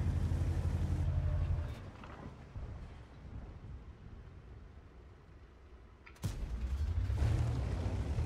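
Tank cannon fire in the World of Tanks video game: a loud booming blast with rumble at the start, quieter stretches, then a sharp second shot near the end followed by heavy low rumble.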